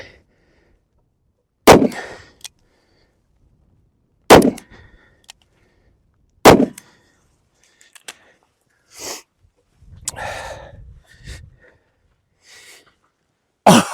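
A Smith & Wesson Model 629 revolver fires .44 Magnum rounds at an outdoor range. Three loud, sharp shots come several seconds apart, followed by quieter clinks and handling noises, with one more shot right at the end.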